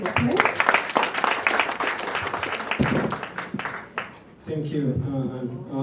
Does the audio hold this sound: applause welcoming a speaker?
yes